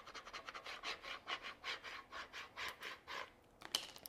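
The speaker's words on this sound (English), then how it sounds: "Next, you could take your little squeegee and go over all of those pieces" A small squeegee rubs adhesive vinyl onto a water bottle in a quiet room, giving about a dozen soft, rhythmic scraping strokes close by, with a sharper final scrape near the end.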